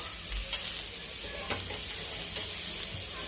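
Grated coconut browning in a pan for a mutton dish gives a steady, close sizzle with the scrape of a spatula stirring through it.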